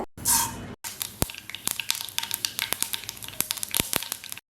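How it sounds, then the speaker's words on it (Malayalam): Mustard seeds spluttering in hot coconut oil: a brief hiss, then a steady stream of sharp pops and crackles at an uneven rhythm, loud and close. "കടുക് പൊട്ടി വന്നപ്പോൾ"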